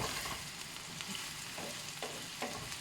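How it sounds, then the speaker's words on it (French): Food sautéing with garlic in a pan, a steady soft sizzle with a few brief stirring scrapes, fairly faint and close, with no talk. "on les fait revenir un peu à l'ail"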